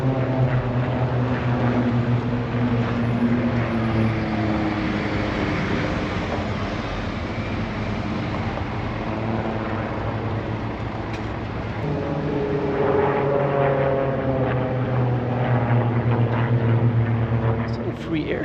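Propeller aircraft at a free airshow in Hamm, Westfalen, droning overhead with a loud engine hum that fades slightly and then swells again as they pass, with people speaking over it.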